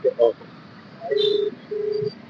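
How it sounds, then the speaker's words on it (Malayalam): A phone call to a vehicle service centre rings over a loudspeaker: two long electronic tones with a pause between, preceded by short beeps, slightly tinny and close. "നിങ്ങൾക്ക് കേൾക്കാമല്ലോ ഞാൻ ഫോൺ ലൗഡ് സ്പീക്കറിലായിട്ടിരിക്കുന്നത്"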